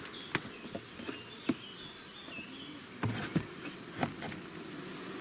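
Bees fly around an apiary hive, giving a faint, steady buzz with a few brief louder taps or knocks, and light bird chirps far off in the background.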